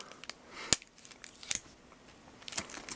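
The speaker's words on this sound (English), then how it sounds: "Now all you do is just take a piece of tape." Tape pulled and torn from a roll, with three sharp crackling rips spaced about a second apart over faint background rustle.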